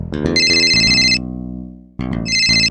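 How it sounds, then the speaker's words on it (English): A telephone rings for an incoming call with a synthetic, melodic ringtone, two loud bursts of bright tones separated by a fading sustained note, close and clear with no talking. "Later that evening, Elle received a phone call."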